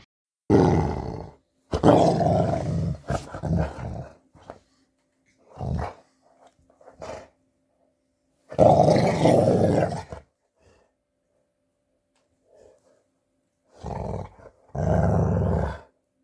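A pet dog growls and roars in several loud, close bursts separated by silent pauses, with a few quieter grumbles in between, recorded beside a Chrysler Grand Voyager.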